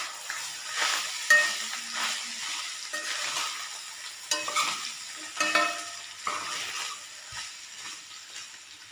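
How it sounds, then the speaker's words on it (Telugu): Rice frying in a pan with pepper powder and cumin powder, stirred with a spatula: a steady sizzle runs throughout, broken by repeated scraping strokes of the utensil against the pan, close and moderately loud, with no talking. "వేసుకున్నాక మళ్ళీ ఒకసారి బాగా కలుపుకోవాలి రైస్ని."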